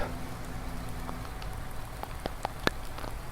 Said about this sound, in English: Still raining a lot.